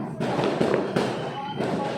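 New Year's fireworks pop and crackle outdoors in a few sharp bursts, somewhat distant, with a steady background rumble.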